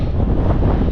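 Wind blows across a hillside on a wet day hike near Black Hill, a brief steady rumble of gusts buffeting the microphone with no other sounds.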